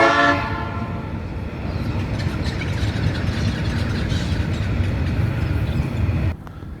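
A train rolls past a camping ground by old goods sheds near Perth, its horn blaring loudly at the start before a steady rumbling, clattering pass that cuts off abruptly near the end.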